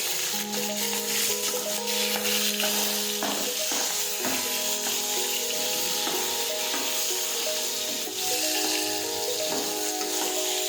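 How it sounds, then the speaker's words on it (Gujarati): Green chillies sautéing in hot oil with mustard seeds and cumin, producing a loud, steady sizzle and crackle that runs throughout, with occasional stirring scrapes and a faint hum underneath. "મરચાં છે તે આપણે સાતળી દઈશું આ રીતે."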